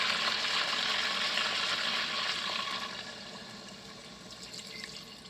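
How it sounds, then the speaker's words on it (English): Water poured into an Instant Pot over poultry and bacon fat, a steady splashing pour that starts fairly strong and tapers off, no talking. "Add about a cup of water."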